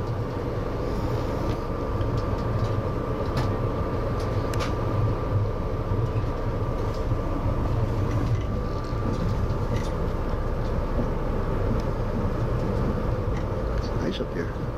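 The Grand Canyon Railway train runs with a steady, heavy rumble heard from on board, continuous and close, while people talk over it.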